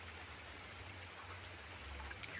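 Heavy rain falling steadily, a soft continuous hiss of drops with a low rumble underneath and an occasional louder drip, heard alone at a moderate distance.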